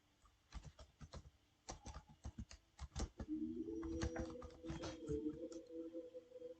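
Fingers tap out a command on a computer keyboard in quick, uneven bursts of light clicks, fairly close and quiet, with a steady tonal hum rising underneath partway through.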